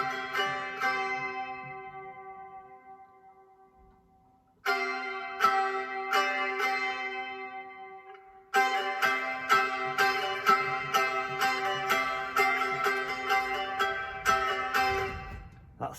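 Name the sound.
baglan, small Greek string instrument playing a riff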